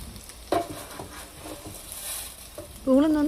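Ginger, garlic, chili and chana dal fry in a pan with a steady, soft sizzle, broken by a few stirring scrapes and brief clinks of the utensil.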